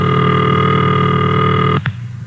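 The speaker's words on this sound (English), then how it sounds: "And this is the ringing signal." A steady telephone ringing tone holds for nearly two seconds, then stops abruptly with a brief click.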